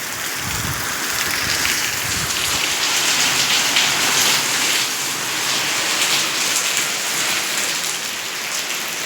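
Heavy rain pours down without a break, a dense, loud hiss of drops hitting surfaces close by, steady throughout with slight swells, with no one speaking.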